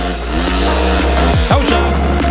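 A trail motorcycle's engine roars close by during an off-road trail ride event, climbing in pitch as it accelerates hard, with a quick gear shift midway before revving up again.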